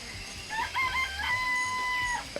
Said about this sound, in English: I count 4 chickens.